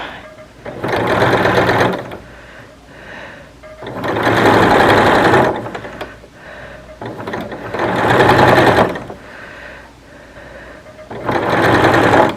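A sewing machine stitches the side seams of a linen shirt in four loud whirring bursts of a few seconds each, separated by short quiet pauses.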